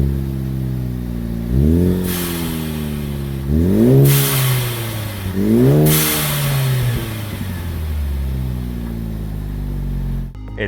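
A Ford Focus ST with a Magnaflow exhaust and Turbosmart blow-off valve revs three times, each rise a deep swelling roar that falls back to a low burbling idle, loud and close.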